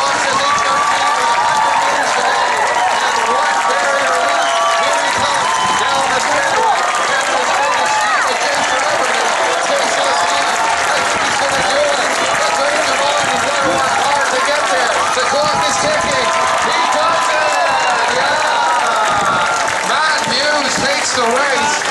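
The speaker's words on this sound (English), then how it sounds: "Let's cheer him on, folks." A stadium crowd roars and cheers continuously as a runner nears the finish of the men's 3000 m steeplechase at the 2017 Canadian athletics championships in Ottawa, with a commentator talking over the steady, loud din.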